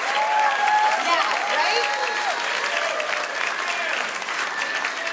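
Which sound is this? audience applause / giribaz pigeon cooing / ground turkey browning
audience applause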